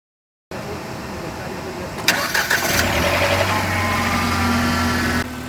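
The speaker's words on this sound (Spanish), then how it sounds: "vamos a proceder a dar ignición al motor para que noten" A car engine is started during a battery voltage check with a multimeter, a short cranking burst followed by the engine catching and settling into a steady close idle, with a voice speaking over it.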